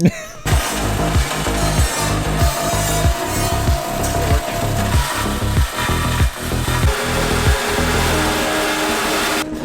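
A burnt car muffler being cut open with a power tool, steady loud grinding and sawing noise with repeated rhythmic strokes throughout, no talking.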